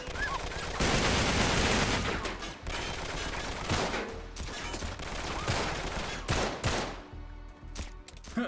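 Bursts of gunfire crackle through a firefight in the video game Uncharted 3, set in the London Underground, with rapid volleys and single shots layered over game music and effects.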